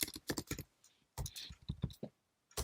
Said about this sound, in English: right now I'm just typing this explicitly